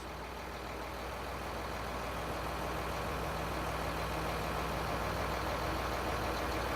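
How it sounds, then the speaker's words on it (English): A vehicle engine idles steadily during a BG Big Dawg II fluid service, a constant low hum with no speech. "We got the vehicle started."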